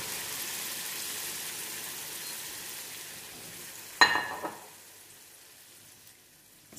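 Fresh tomato sauce cooking in a pan, a steady faint hiss and sizzle that drops off suddenly after a brief louder clatter, leaving quiet bubbling.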